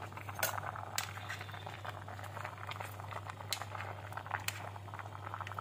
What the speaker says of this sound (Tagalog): Pakuluin ko ng konti.